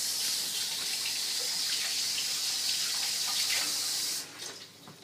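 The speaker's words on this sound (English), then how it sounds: "I'm going to rinse my hands off." Tap water runs steadily into a sink as hands are rinsed under it, a continuous close splashing rush with no voices, stopping abruptly near the end and leaving only a few faint drips.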